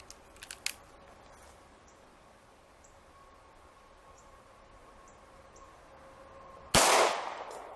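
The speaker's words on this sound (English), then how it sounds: "Let's see if we can open it up with a 9mm pistol." A 9mm pistol fired at a solid steel gate lock: one loud, sharp shot with a quick ringing decay near the end, after several seconds of quiet outdoor hum and faint distant clicks.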